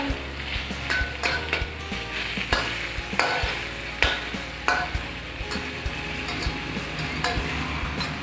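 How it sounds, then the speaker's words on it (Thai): Chicken and garlic fried in a pan, stirred with a spatula over high heat: continuous close sizzling broken by repeated sharp scrapes and clinks of the utensil against the pan. "ตักคนไป"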